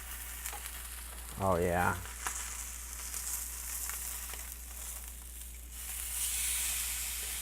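A ribeye steak sears in a hot cast iron pan, giving a steady broadband sizzle that runs the whole time, with a brief voice heard early and some handling clatter from flipping the meat.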